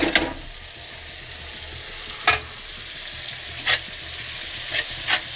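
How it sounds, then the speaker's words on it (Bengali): Spices frying with onion and garlic in a pan alongside prawns, turmeric and salt, giving a steady sizzle with occasional sharp spatula scrapes and stirs, close and moderately loud, no talking. "এবার আমি মশলাটা ভাজা ভাজা করব।"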